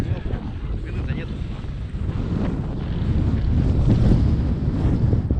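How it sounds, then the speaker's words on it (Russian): Strong wind buffets the microphone in a low, continuous roar while fishing at Lake Yavan, with water and faint activity beneath and the gusts growing slightly louder toward the end. "А ветер-то какой."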